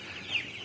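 Soft, high peeping of 11-day-old broiler chicks in a brooding house, a continuous faint chorus with one slightly louder chirp rising out of it.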